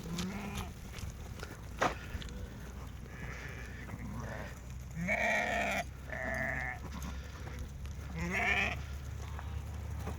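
Sheep and lambs in a flock of 85 ewes with young, bleating repeatedly at close range, overlapping calls rising from several animals over steady background noise.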